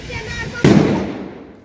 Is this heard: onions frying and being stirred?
no